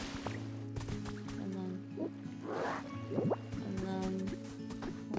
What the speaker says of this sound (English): And then we just get a little bit of water here.